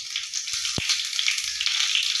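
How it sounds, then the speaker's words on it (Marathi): Half a cup of oil with green chilies and cumin crackles in a hot pan for a fasting-rice tadka, a continuous close hiss with one sharp tap partway through, no talking. "चला तर मग तडका बनवून घेऊ."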